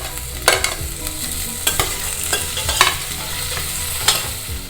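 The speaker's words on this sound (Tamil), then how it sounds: "வெங்காயம் கொஞ்சம் வதங்கி எடுத்து இஞ்சி பூண்டு சேர்த்துக்கலாம்." Onions sautéing with ginger, garlic and green chili in a pan for vegetable pulao, a steady close sizzle broken by repeated scraping stirs of a spoon.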